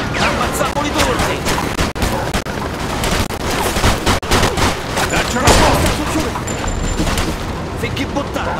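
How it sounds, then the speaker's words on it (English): Dense, continuous gunfire and booming impacts in the 1940s–50s crime shooter Mafia II, heavy and close throughout, with raised voices shouting over the shooting. "just keep shooting!"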